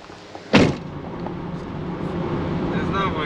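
Car driving along a road, a sharp door or window thump near the start followed by a steady moderate road and engine hum; someone speaks briefly.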